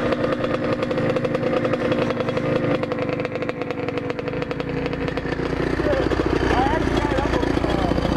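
A motorcycle engine runs steadily and loud throughout, a continuous droning rumble with slight rises in revs, with voices partly audible over it.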